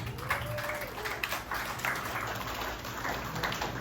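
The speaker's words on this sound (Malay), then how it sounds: "Bagi satu tepukan." Students and teachers applaud together at a school gathering, a steady, moderately loud wash of clapping that holds through the whole moment with a faint voice underneath.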